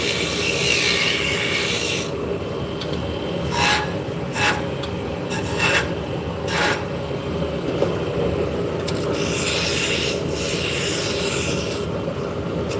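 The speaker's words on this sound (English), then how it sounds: "So we're turning shafts for Turkish drop spindles." A wood lathe turns shafts for Turkish drop spindles with a continuous close rasping and rubbing. Repeated brief scraping strokes sit on top of a steady hum.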